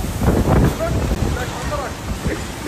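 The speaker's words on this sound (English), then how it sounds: "Yo, look at the wind!" Strong wind buffets the microphone in loud, rough gusts, with excited voices shouting and laughing over it.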